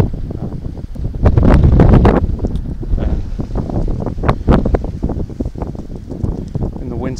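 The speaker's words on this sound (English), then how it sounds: "the wind's picking up, so I don't know if you can hear me" Wind blows outdoors at a metal-detecting site, buffeting the microphone with loud, gusty roaring rumbles. The strongest burst comes early, and the gusts keep pulsing after it.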